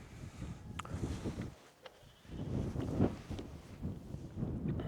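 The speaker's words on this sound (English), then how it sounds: "So the wind's picking up a bit more now, probably looking at 20 mile an hour." Gusty hilltop wind of around 20 mph buffets a Terra Nova Southern Cross 1 tent, a low rumbling roar that rises and dips, with a brief lull midway and faint flapping ticks.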